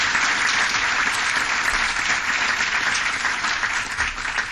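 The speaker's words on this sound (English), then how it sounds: "And once again, a round of applause for these very bright young" City council meeting audience giving a round of applause for bright young students, loud, full clapping from the chamber that holds steady throughout and eases only slightly at the close.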